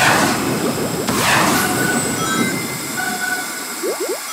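A train running on a railroad in the Roblox game Sonic Speed Simulator, a loud rumbling rush with metallic clatter and a few short squealing tones near the end, no talking.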